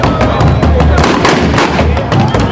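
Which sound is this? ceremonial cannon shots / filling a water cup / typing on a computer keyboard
ceremonial cannon shots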